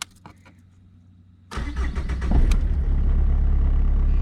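A Peugeot 306 break estate with a 2-litre HDi diesel and 346,900 km is started close by: after a near-silent pause, a short cranking burst catches and settles into a loud, steady diesel idle rumble.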